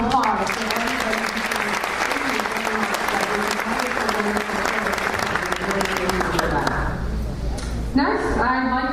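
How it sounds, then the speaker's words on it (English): An interfaith dinner audience claps in a loud, steady round of applause with a voice talking over it, fading out near the end before speech resumes. "I want to have a big round of applause for everybody"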